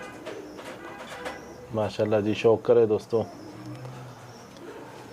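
Arab teddy pigeon coos in a short run of rhythmic low pulses at mid-clip, close and fairly loud, with a voice talking before and after.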